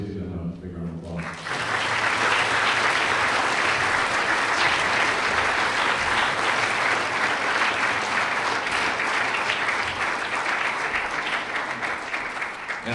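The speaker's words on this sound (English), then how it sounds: "So please give them a big round of applause." Audience at a sports banquet breaks into loud, sustained applause after a brief moment of talk, dense clapping holding steady for about eleven seconds and tapering slightly at the end.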